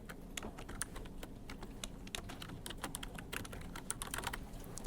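A computer keyboard is typed on in a steady run of rapid, close, crisp key clicks, with no talking.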